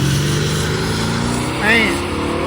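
Chevrolet Nova at a drag race, a rowdy engine roar heard over steady crowd and track noise, with a brief rising rev near the end and voices in the background.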